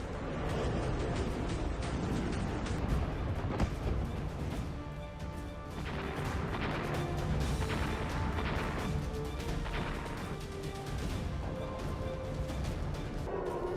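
Repeated explosions in the Iranian city of Isfahan, a dense, continuous barrage of loud booms, crashes and cracks layered over a roaring rumble, with no clear pauses.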